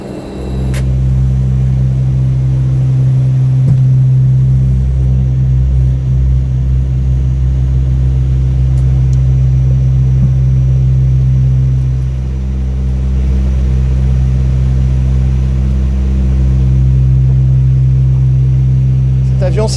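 Inside an ATL2 maritime patrol aircraft in flight, the engines make a loud, constant low drone with a steady tonal hum that fills the cabin throughout.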